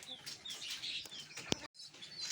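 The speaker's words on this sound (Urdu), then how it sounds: "یہ مرغی دیکھیں جی یہ بھی بھیگی ہوئی ہے رات سے" A rain-soaked chicken clucking at a rural farm after a wet night, soft repeated clucks and chirps among faint rustling and ambient noise, close, with no talk.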